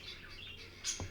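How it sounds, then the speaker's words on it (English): Guinea hens call from a garden at some distance, giving a brief bright chirping burst over quiet outdoor background. "my guinea hens apparently are over in the rose garden"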